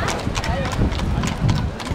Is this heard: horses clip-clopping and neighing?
yes